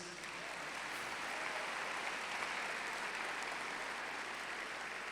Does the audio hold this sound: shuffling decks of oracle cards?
no